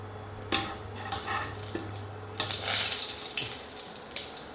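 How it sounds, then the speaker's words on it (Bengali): Hot oil spits and crackles in a pan after bay leaves and cumin are tossed in, following fried potatoes, with close irregular pops and bursts of hiss over a low steady hum. "কি তেল ছিটছে"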